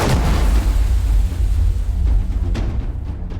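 A deep, rumbling explosion blast from a horror story's sound design, a heavy low boom that sustains and rolls for several seconds before thinning out, loud and alone without talk.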